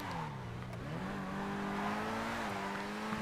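Pegassi Reaper sports car exhaust in GTA 5, a revving engine note that dips then climbs steadily in pitch as the car accelerates, heard alone at moderate level.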